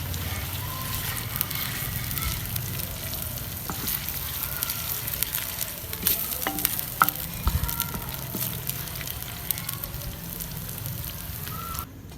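Garlic and ginger paste frying in a pan for daal mash fry, a continuous close sizzle broken by scraping stirs.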